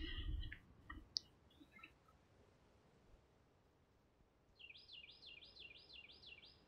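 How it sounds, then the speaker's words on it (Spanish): Birds chirp in the ambient soundscape of the Overpass map in the video game CS:GO, a quiet repeated warbling call rising late in the clip after a few faint clicks, with no talk. "Como cantan los pajaritos."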